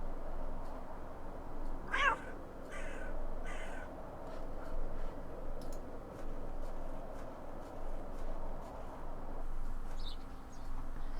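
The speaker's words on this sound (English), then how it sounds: "Oh, it's that cat." A cat meows in The Excavation of Hob's Barrow, one clear meow early on followed by a few softer repeated calls, with faint bird-like cries later over a steady quiet game ambience.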